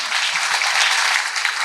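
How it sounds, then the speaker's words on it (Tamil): Steady applause from an audience at a Tamil speech event, dense clapping filling the room evenly at moderate loudness with no voices over it. "நீங்கள் எல்லோரும் ஒரு தடவை நல்லா கை தட்டிட்டீங்கன்னா"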